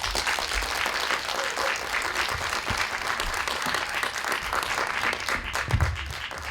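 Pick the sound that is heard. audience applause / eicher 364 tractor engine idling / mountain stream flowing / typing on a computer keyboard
audience applause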